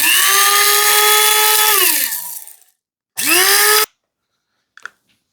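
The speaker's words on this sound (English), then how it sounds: "put it in my spice grinder here. And I'm just gonna pulse it until everything's kind of a nice fine powder." Electric spice grinder pulsing rosemary, Carolina Reaper and black pepper into powder: a loud high whir for two seconds winding down, then a second short burst cut off abruptly, followed by a faint clink.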